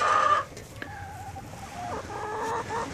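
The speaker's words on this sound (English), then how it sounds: "Look at all those chickens." Farm chickens cluck and murmur inside a coop where eggs are being gathered, with a hen present; several birds call close by in short, overlapping clucks and a few drawn-out notes, with no talking.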